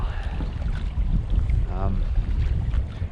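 Gusty wind buffets a boat on open water at Pine Coulee Reservoir, a steady broadband rush and low rumble of wind noise throughout, with brief faint sounds beneath.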